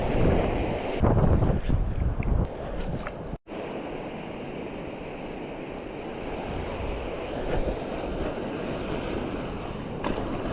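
Big open-sea waves wash and surge around a small fishing boat, with steady rushing water and gusty wind buffeting the microphone throughout, and no talk.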